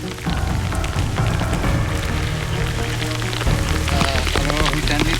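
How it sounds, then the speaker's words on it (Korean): Heavy rain pours steadily on a high mountain at a stone quarry, a dense, loud, continuous patter of large drops with no gaps. "심지어 굵은 빗방울이 떨어지기 시작한다."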